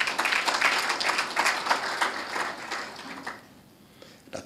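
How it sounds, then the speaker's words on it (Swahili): An audience claps for the President at a formal gathering, a dense burst of applause that thins out and fades after about three seconds. "Tumpigie makofi Mheshimiwa Rais."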